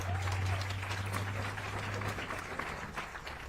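Applause from a crowd, a steady wash of clapping sustained throughout with a low hum underneath.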